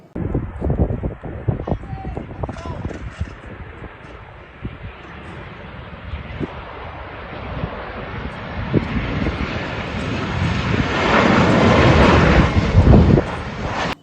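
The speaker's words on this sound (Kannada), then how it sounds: "ಭಾರತೀಯ ವಾಯುಪಡೆ ವಿಮಾನ ಹಾರಾಟವನ್ನು ಪ್ರಾಯೋಗಿಕವಾಗಿ ಆರಂಭಿಸಿ ಯಶಸ್ವಿಯಾಗಿ ಹಾರಾಟ ಮತ್ತು ಲ್ಯಾಂಡಿಂಗ್ ಮಾಡಿರುವ ದೃಶ್ಯಾವಳಿಗಳು ಲಭ್ಯ" An Indian Air Force airplane flies over Shivamogga airport during trial flights and landings; a loud engine roar builds and swells toward the end amid wind noise, with voices talking underneath.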